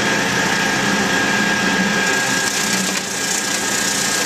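An Emura ECA 202 vegetable slicer runs while cutting peas, its motor giving a steady, loud whirring drone throughout, with a faint rattle of pods passing through the housing.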